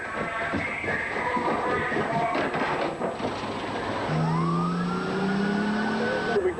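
A fire engine siren wails loudly and continuously while responding to a call, its pitch sweeping up and down over heavy engine and road rumble, the rising wail growing stronger near the end.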